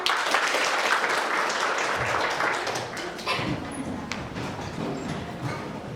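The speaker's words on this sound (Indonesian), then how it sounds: "Oke, tepuk tangan" A class claps after singing the Indonesian national anthem, a burst of mixed applause with some scuffling and background noise, loud at first and thinning out over several seconds.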